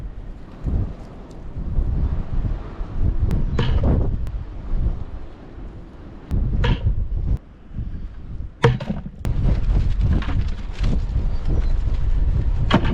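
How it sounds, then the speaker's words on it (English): Strong wind gusts across an open farm field, buffeting the microphone in loud rumbling surges with a few sharp bursts and brief lulls, no voices. "Wind is bad."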